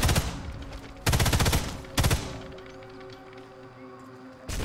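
Bursts of gunfire from the Sniper Elite 5 survival mode, with machine guns: three loud, rapid automatic volleys in the first two seconds, a quieter stretch of lingering reverberation, then another sharp burst at the end.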